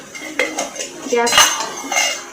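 A spoon stirs chicken liver and potato curry with mint and coriander in a metal pot, loud close scraping and clanking in a few uneven strokes, with no speech.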